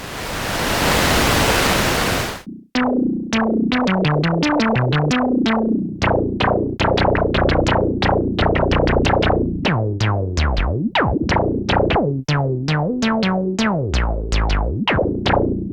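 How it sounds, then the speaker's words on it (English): A burst of hissing noise from the noise oscillator of a Donner L1 analog synth, an SH-101 clone, opens, then gives way to a busy run of plucky, resonant synth notes with sweeping pitch. "Then you have a noise oscillator."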